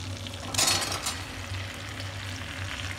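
Cut potatoes drop into a hot pan of oil left from frying brinjal, and a steady sizzle follows with a brief stirring scrape near the start. Close and moderately loud, with no talk.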